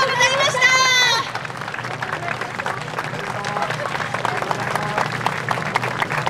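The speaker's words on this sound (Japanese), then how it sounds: "オトワカインの皆さんに改めて大きな大きな拍手をお送りください" Applause from a festival crowd after a dance performance, dense clapping across the whole stretch, opening under a loud amplified announcer's voice that fades out after the first second.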